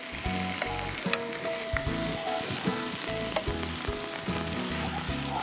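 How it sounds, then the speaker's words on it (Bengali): Raw ingredients for mutton kosha frying in a pan, with loud, steady sizzling and repeated scraping stir strokes in an irregular rhythm, close up and without speech. "যেসব জিনিসগুলো একটু কাঁচা ইনগ্রেডিয়েন্ট সেগুলো আগে কষিয়ে তারপর আমি মশলাটা অ্যাড করব"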